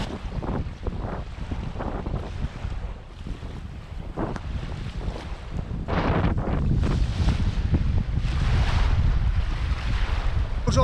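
Strong wind with rain at a lake buffets the microphone in loud, gusty rumbles, with surging noise that swells and eases throughout.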